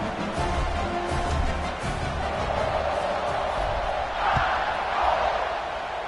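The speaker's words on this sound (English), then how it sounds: "this crowd is buzzing after that last score" Stadium crowd in the College Football 26 video game, a steady dense roar of many voices buzzing after a score, holding at an even level with a couple of brief swells near the end.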